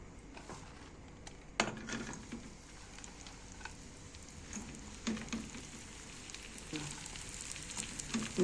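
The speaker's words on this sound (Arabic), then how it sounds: "هحمص العيش في قلب الزيت ده" Bread toasting in a little hot oil in a pan, a quiet close sizzle with scattered crackles and a few clinks from stirring, no voices.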